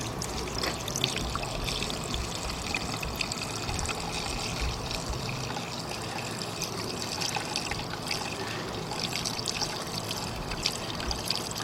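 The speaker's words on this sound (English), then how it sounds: "Let's add some water." Water trickles and pours steadily into the cooling system of a 2002 Buick LeSabre with a 3.8 engine that has been overheating, a continuous close liquid splash.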